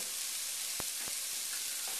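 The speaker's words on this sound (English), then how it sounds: "I'm going to let these cook down for a couple minutes" Garlic and vegetables cook down in a hot pan, giving a steady, loud, close sizzle throughout, broken by a couple of brief soft pops.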